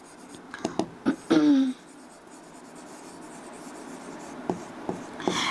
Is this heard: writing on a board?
yes